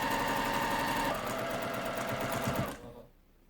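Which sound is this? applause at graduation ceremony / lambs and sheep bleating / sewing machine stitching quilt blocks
sewing machine stitching quilt blocks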